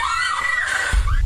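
A woman screams in a brief, loud, high-pitched and sustained burst captured on a recording.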